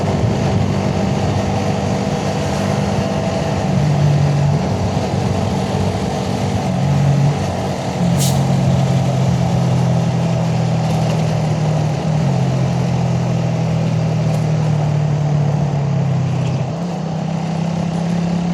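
A Suzuki Raider 150 motorcycle with a carburetor, its single-cylinder engine held at high revs, a loud, steady buzzing drone close up with slight rises and dips in pitch but no pause from start to finish.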